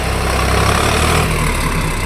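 A tempo truck with a damaged engine that cannot rev idles with a loud, steady, low rumble throughout, staying even without any rise in pitch.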